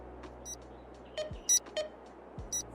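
Electronic beeping inside the video game Farming Simulator 22 at a frontier mine: short, repeated high-pitched bleeps sounding at irregular intervals over a steady low background hum.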